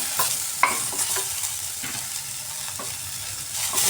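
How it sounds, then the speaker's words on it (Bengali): Steady frying sizzle of potatoes and cauliflower in a pan, with scraping and stirring clatter from a spatula, close by, with no voices. "আলু আর ফুলকপি ভাজা ভাজা হয়ে গেছে"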